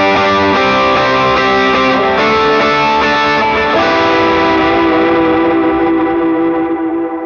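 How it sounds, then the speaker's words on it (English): Electric guitar chords strummed with reverb, delay and overdrive effects, a sustained, distorted wash of ringing notes that fills the whole stretch and slowly decays at the end, with no talking. "So I'm gonna play for you what that sounds like with some reverb, delay, and overdrive."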